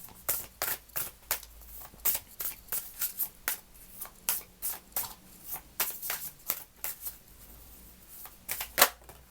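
Tarot cards are shuffled and drawn by hand in a quiet room, a steady run of crisp riffling snaps and slaps, close and clear with no voices.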